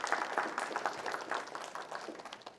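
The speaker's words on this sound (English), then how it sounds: "round of applause" Brief round of applause from a lecture-hall audience at a C programming class, steady moderate clapping of a small crowd with no talk over it.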